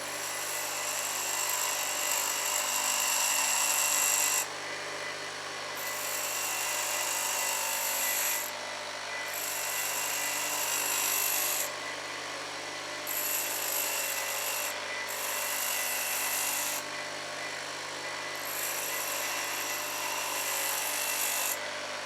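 A grinding wheel for sharpening drill bits spins with a steady high whine and low hum, its pitch and loudness dipping briefly several times as if contact comes and goes during diamond dressing.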